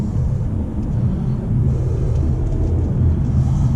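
A 2018 Mercedes C200 EQ Boost accelerating, heard from inside as a steady, loud low engine and road rumble that holds even for several seconds, with no speech.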